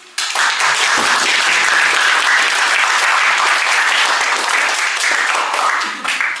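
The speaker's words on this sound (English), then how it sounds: "A final round of applause for her, please." Sustained audience applause after a talk on marine conservation, loud and dense from start to finish with no voices over it.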